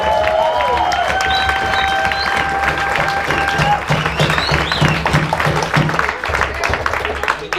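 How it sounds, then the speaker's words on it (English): Clapping and some cheering from an audience at a flowboarding championship awards event, moderately loud and uneven, with a voice talking over it and some tonal background sound. "I better not hear this be a quiet clap"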